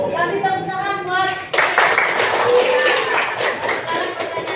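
Primary-school students in a classroom clapping together after a lesson answer, a short burst of uneven hand claps starting after a spoken voice, with chatter mixed in.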